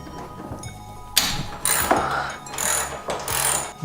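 A ratchet wrench loosens 10mm bolts from the front fender of a Nissan 350z, giving close, repeated clicking ratchet strokes in short bursts with no talking.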